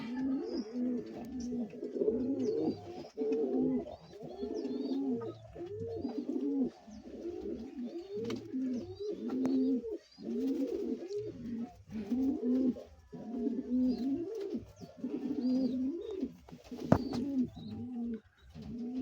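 Fancy pigeons coo in repeated soft, throaty rolling phrases at close range, a steady rhythmic series of low burbling calls with no talking.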